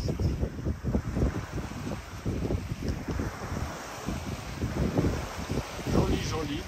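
Gusty wind of about 12 knots buffets the microphone in uneven bursts aboard a sailboat in the Dodecanese, Greece, with a faint rush of water and rigging noise in the background, no clear speech.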